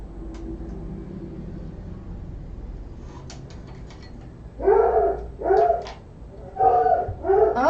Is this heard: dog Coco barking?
yes